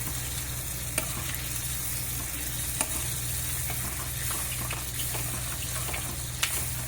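Spinach dal being poured into a hot pan and stirred, giving a steady sizzle with occasional sharp clinks of a spoon against the pan, close and continuous.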